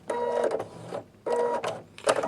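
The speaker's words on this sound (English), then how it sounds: "now I'm going to use the scissor cutter" Scissor cutter on a Singer Futura XL 550 sewing machine, three short mechanical whirring bursts with brief pauses between them, close and fairly quiet, no talking.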